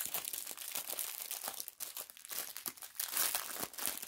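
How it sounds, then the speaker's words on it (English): Crinkling plastic packaging of diamond art drills, a close, continuous crackle of handled bags with sharp crunches throughout, no voices. "if you don't like the crinkling noise,"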